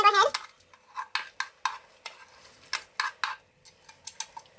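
Shrimp ceviche with tomato, onion and cilantro being mixed in a bowl, a run of short wet scraping strokes in a loose rhythm, close and fairly loud against a quiet background.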